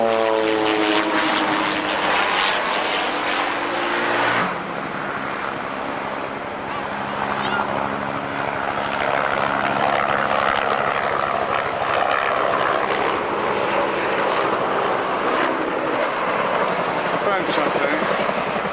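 Aircraft arriving at the RIAT Fairford airshow in 1995 make a loud, sustained engine drone, rising then settling into a steady roar close by, with people talking underneath.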